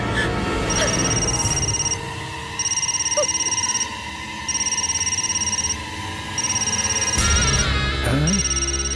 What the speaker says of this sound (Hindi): इसके बेटे का फोन है।